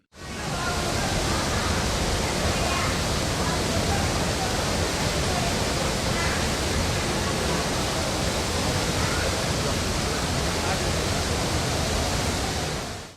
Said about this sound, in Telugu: మాల్వాడీ గుండం జలపాతం ఉధృతంగా ప్రవహిస్తోంది